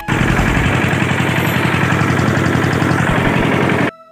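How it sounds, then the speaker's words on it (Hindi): A small mini tractor engine runs close by with a rapid, loud, evenly pulsing chug that holds steady for about four seconds before cutting off abruptly. "आज मैं चलाने वाला हूँ ये मिनी ट्रैक्टर"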